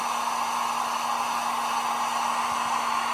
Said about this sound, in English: We're gonna give it some regular heat for about 15 seconds here.